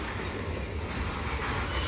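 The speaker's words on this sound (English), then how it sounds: "Wait, there's a fourth train." A freight train rolls past close by, a steady loud rumble of railcars with a broad hiss and a low drone that holds evenly throughout, with no voices.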